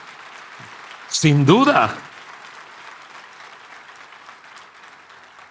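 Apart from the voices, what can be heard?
applause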